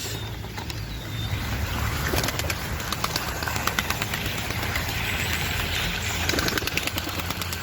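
Outdoor bustle with a steady low rumble and rapid fluttering bursts, like pigeons clattering into flight, alongside faint cooing and bird calls.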